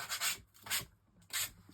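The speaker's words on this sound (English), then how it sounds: "I'm just going to scrape these off" Blade scraping along the cut edges of paper card, three short dry rasping strokes in an even rhythm, close and quiet with brief pauses between them.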